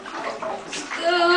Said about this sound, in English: Lyle, can you scoop up the bubbles and put them on your belly?